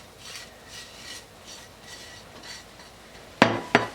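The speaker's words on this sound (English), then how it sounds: "we're just going to throw all the leftovers onto a plate" Leftovers for a carnivore scotch egg dish are scraped onto a plate: a series of soft rhythmic rasping scrapes, then two sharp loud scrapes close by at the end.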